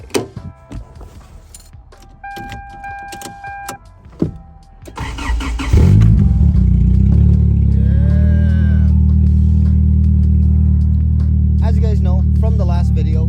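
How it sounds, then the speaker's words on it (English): A Toyota Tacoma truck engine starts after some handling noises and then idles loudly and steadily, with a brief rise in revs near the end. "let's get you guys a little bit of a sound clip for the Tacoma so you guys know exactly how it sounds right now as it is"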